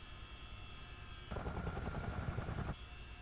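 Simulated CH-47D Chinook helicopter in the Miltech Simulations flight simulator, a steady rotor and turbine drone that swells louder for a stretch midway before settling back to a lower hum.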